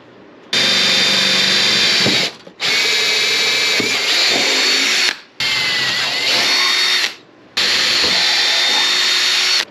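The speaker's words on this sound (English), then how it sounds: "And we are going to drill out these 4 holes." A power drill bores four holes into a custom dash panel for a Fiat Spider project car, running in four long, loud, steady bursts separated by short pauses, with no talking.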